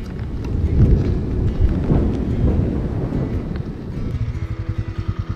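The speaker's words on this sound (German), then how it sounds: "Da hat's gerade gedonnert." Deep rolling thunder rumbles loudly and close during a storm in Norway, swelling and fading over several seconds before a lower pulsing engine-like drone takes over at the end.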